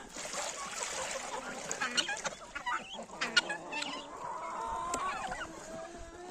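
Young autumn-hatched chickens cluck and chirp in a loose flock nearby, with scattered sharp calls over a faint hiss of background noise.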